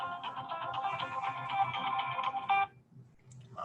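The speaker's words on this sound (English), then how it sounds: "My phone was ringing" A phone ringtone plays a bright, repeating electronic melody at moderate volume for about two and a half seconds, then stops, leaving faint room noise.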